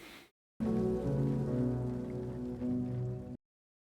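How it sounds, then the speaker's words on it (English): Steady rain falls in a scene from the series 3 Body Problem, a dense even patter lasting about three seconds before stopping abruptly, with no voices. "And the rain has come."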